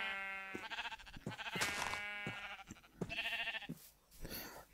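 Minecraft sheep bleating repeatedly in a video game, several wavering baa calls in quick succession at close range, with someone talking in German over them.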